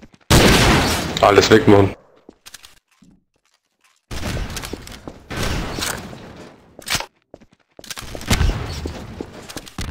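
Explosive barrels blow up in the video game Trouble in Terrorist Town, loud bursts of blasts and crackling gunfire-like noise coming in separated bursts with silent gaps, while someone speaks briefly.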